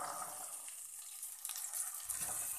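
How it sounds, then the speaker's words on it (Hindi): Green peas frying in ghee and masala for a cabbage and pea dish give off a continuous, fairly quiet sizzling hiss that holds steady with slight swells, no talking. "हम इसमें हरे मटर डाल देंगे।"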